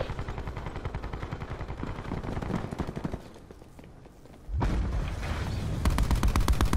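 Gunfire in the Black Ops 4 video game, loud rapid automatic bursts and shots close by, easing into quieter scuffling for a moment before heavy firing resumes.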